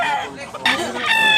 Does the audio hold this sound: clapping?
no